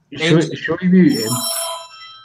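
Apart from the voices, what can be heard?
cell phone ringing with loud bell ringtone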